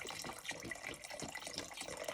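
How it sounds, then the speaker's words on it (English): Chicken broth pours into a soup pot with a steady watery splashing and trickling that runs without a break, close and moderately loud, and no one talks over it. "Alright, so I got the broth in here."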